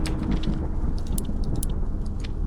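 Rumbling thunder in the horror video game MADISON, a steady low roar with rain-like hiss lasting the whole stretch, with no one talking.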